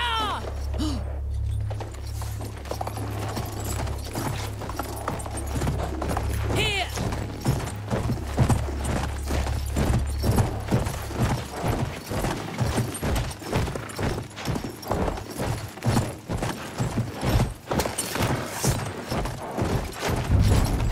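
Horses gallop in the Battlefield 1 video game, hooves thudding in a quickening rhythm that grows louder and denser, mixed with game effects and distant bangs after a quieter opening.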